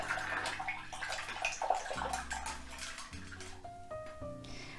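A paintbrush used with acrylic paint is swished and rinsed in a water container, giving close, steady sloshing and trickling with light clinks. Faint tonal hums sit underneath.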